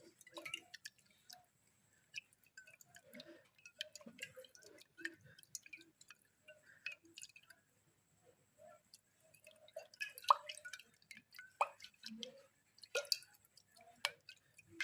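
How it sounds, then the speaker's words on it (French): A toner mixture being stirred to dissolve allantoin powder gives soft, scattered drips, clinks and squishy liquid sounds in irregular bursts, quiet and close, with a short lull partway through. "Je mélange bien pour faire dissoudre la poudre d'alantoïne"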